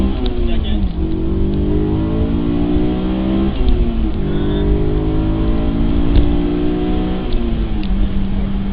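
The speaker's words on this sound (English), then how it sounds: "Alright, so first gear, run through the gears, second." A manual transmission car accelerates through the gears, engine revs climbing steadily then dropping at each shift, repeated several times, loud and close under a driver's talk.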